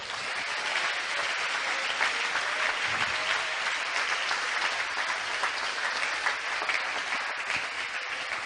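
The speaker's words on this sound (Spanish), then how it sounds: "Démosle un aplauso al Señor en esta hora." Church congregation applauding steadily throughout, a dense, even wash of clapping from many hands filling the space without pause.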